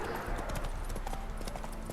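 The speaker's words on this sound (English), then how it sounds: "I'm already on my horse, so I don't have to deal with that shit" A horse in The Witcher 3: Wild Hunt trots with a steady, rhythmic clip-clop of hooves, moderately close and continuous over a faint ambient bed.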